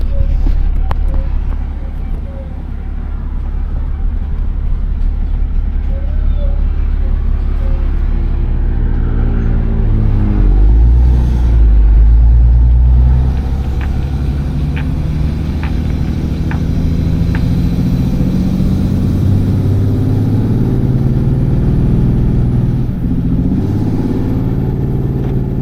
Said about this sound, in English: it's a pretty steep road coming out. So let's see how the truck does